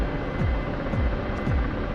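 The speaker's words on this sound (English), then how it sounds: "It's hard to fly a Black Shark when it starts glitching, because it doesn't fly like a normal helicopter" A Black Shark helicopter in a flight game drones with a steady engine hum and a rhythmic rotor whoosh, repeating about every half second throughout.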